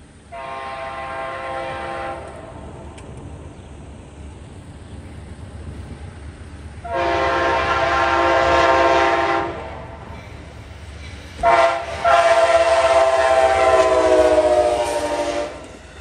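Amtrak P42DC diesel locomotive hauling a passenger train past Fonda, New York, sounding loud multi-tone horn blasts: one short blast, a longer one, then a sustained final blast over steady rumbling wheel and engine noise.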